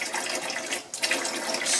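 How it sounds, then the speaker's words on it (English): Diluted powders in a little water poured into pickling vinegar, a steady close liquid splash and trickle running throughout with a brief dip midway. "you pour this"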